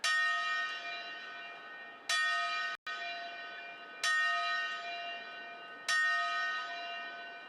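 A bell tolls at a September 11 remembrance in Alabama, four clear resonant strikes about two seconds apart, each ringing out and slowly fading alone.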